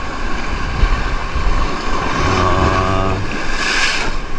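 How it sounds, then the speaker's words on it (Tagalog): Waves rolling in against a rocky shore during a shore fishing trip for giant trevally, building to a steady, loud wash with a rising surge near the end, heard alone with no talk. "Tsaka ngayon lang lumakas yung halon."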